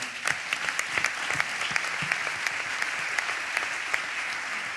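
A church congregation applauding during a service, many hands clapping in a steady, dense patter that fills the room, moderately loud and continuous throughout.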